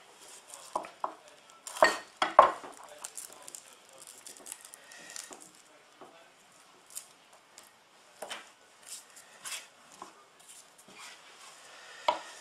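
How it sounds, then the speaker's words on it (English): A knife cuts a shallot on a chopping board, making close, crisp clicks and taps. A few sharper knocks stand out among irregular lighter chops, with no talking. "take your shallot on the flat side, flat surface, and just gently cut lengthways, and then cut across"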